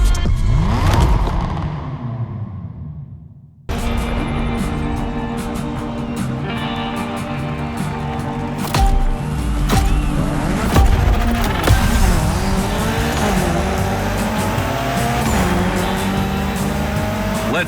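Mitsubishi Evo 9 race car in The Crew Motorfest gymkhana, engine roaring and revving loudly with tire squeals and skids, after a brief quieter opening, sustained and close throughout.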